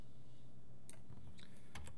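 Computer keyboard typing comes in a few quick, light clicks in short bursts, close and quiet, with no talking.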